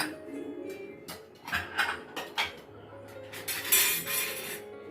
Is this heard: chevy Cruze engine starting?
no